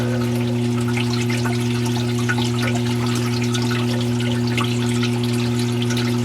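Aquarium water runs steadily into a tank overflow, a continuous close rush of trickling and splashing over a strong, constant pump hum with no pauses.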